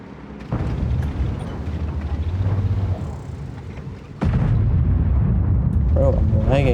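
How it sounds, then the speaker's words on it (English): Two heavy tank cannon shots in World of Tanks boom out a few seconds apart over a steady engine rumble, the second followed by louder, continuous low-end noise. "That was actually two beautiful shots."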